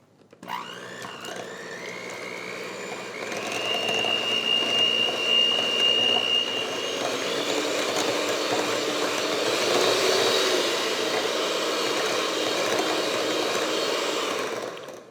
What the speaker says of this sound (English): Take your electric mixer.